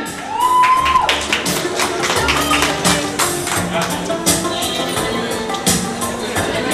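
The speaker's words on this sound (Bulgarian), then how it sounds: "Аплодисменти за Дани Бой!" Audience at MOL Vidin applauding and cheering to welcome Dani Boy, dense clapping with whistles and crowd noise, loud and close, with a rising whistle near the start and some voices mixed in.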